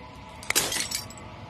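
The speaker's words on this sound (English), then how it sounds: "As the final fragment of glass shatters, you see yourself with newfound clarity" Glass shatters in the video game Slay the Princess: a sharp crack followed by a bright burst of tinkling shards that rings out and fades within about a second.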